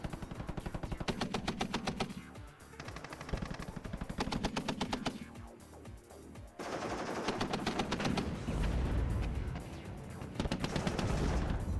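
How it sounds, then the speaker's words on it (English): Sustained .50 cal machine gun fire in the WARNO war game, rapid rattling bursts layered with other gunfire and battle noise, loud and continuous throughout with no talk. "The 50 cal finishes this off"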